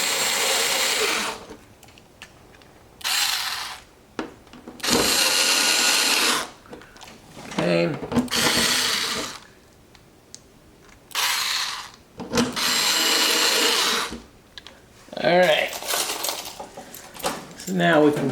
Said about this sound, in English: I'm just going to start the screws